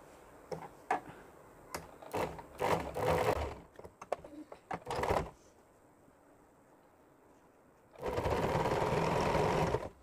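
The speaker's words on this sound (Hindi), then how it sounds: "अब इस पर किनारे किनारे पर एक सिलाई लगा लेनी है किनारे की।" Sewing machine stitching along the edge of a nighty's fabric, with short bursts of whirring stitches early on, a pause, then a steady continuous run at the end.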